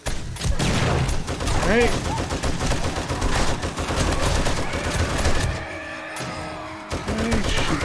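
Rapid gunfire rattles in the video game 7 Days to Die Alpha 20, dense repeated shots at close range with a brief lull near the end before firing resumes, and a voice speaks briefly over it.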